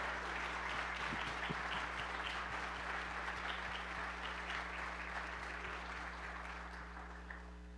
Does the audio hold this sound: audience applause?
yes